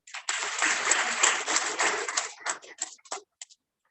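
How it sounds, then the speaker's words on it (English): Audience applause for event organizers at an International Day of Education 2022 celebration, a dense burst of many hands clapping that thins into scattered claps and stops after about three seconds. "Please let me clap for them."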